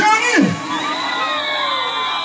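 A crowd of supporters at a street rally cheers and whoops, a loud burst of shouting voices that settles into sustained high-pitched cheering.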